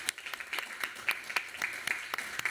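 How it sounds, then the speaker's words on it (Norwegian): A small audience at a breakfast meeting on women in sport and technology claps for a guest, giving brief, moderately quiet applause with a few distinct sharp claps standing out. "Stor applaus."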